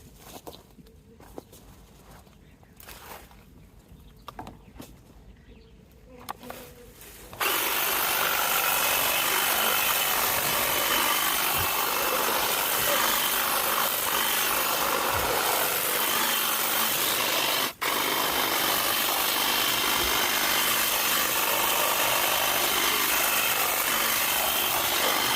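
Lavender is trimmed in a garden. Scattered snips and rustles come first, then a loud, continuous buzzing hedge-trimmer-like drone runs without a break for the rest of the time.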